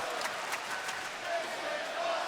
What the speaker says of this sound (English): You hear the great crowd here in Boston showing their respect